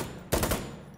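A short burst of automatic gunfire in the tactical shooter game Insurgency: Sandstorm, a single quick rattle of several rapid shots, loud and close, with quiet before and after.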